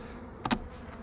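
A single brief buzz of a honeybee passes close by, part of bees robbing out a dead-out top-bar hive; it rises sharply for an instant and fades against a quiet background.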